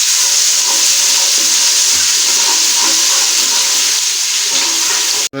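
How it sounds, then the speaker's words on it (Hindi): Ginger-garlic paste frying in hot oil in a pan, a steady, loud, close sizzle that holds evenly throughout before cutting off abruptly at the end. "हम इसमें लहसुन और अदरक का पेस्ट ऐड करेंगे। इसको मामूली फ्राई करेंगे।"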